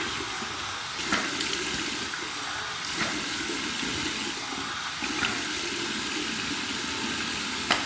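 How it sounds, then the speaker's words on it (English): Warm water runs steadily from a bathroom tap into a sink for a shaving rinse, a continuous close splashing hiss with a few small louder splashes. "so here's my warm water rinse"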